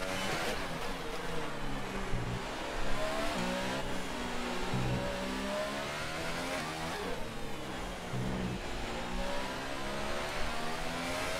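Formula One cars race through the Singapore Grand Prix in a racing video game, engines whining and shifting pitch continuously as they pass and accelerate, a dense, steady roar with no speech.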